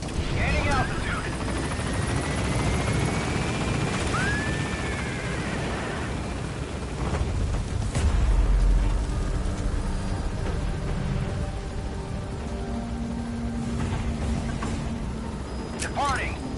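A helicopter in Metal Gear Solid V: The Phantom Pain lifts off from a landing zone, its rotor drone steady beneath radio voice chatter and game sound effects, with a brief swelling whoosh partway through.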